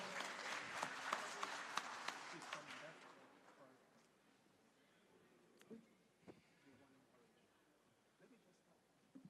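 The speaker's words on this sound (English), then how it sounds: "Please, a round of applause for them." Audience applause at a Sahel governance forum rises at once as a dense burst of clapping that lasts about three seconds, then thins out into a quieter hall with scattered knocks and shuffling.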